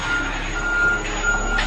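Reversing beeps from a concrete truck backing up at a residential garage pour, a steady repeating electronic tone over a low diesel rumble.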